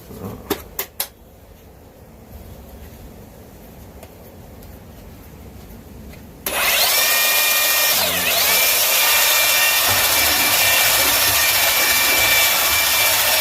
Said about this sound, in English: the knobs, you can sand them a little smoother if you want